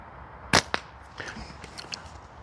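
Slingshot shots firing 8mm steel ammo from a Snipersling S-lizard with tapered bands: two sharp, loud cracks in quick succession followed by fainter scattered clicks and impacts, no talking.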